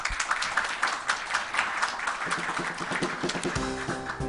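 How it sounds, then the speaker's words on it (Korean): Applause from an audience at a semiconductor design competition awards ceremony, greeting a presenter as he comes up; dense steady clapping throughout, with a sustained tone appearing near the end. "본부장님 박수로 맞아주세요"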